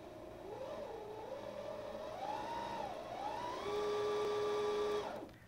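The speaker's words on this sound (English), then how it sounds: "I hold this thread taut and I start winding." A sewing machine winds thread onto a bobbin, a steady, fairly loud mechanical whine that rises and shifts in pitch, then holds high before cutting off abruptly.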